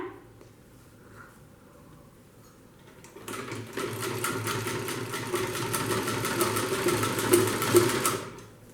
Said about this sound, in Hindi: अब हम इस पर सिलाई करेंगे। देखो अब इस तरीके से अब इस पर सिलाई करेंगे।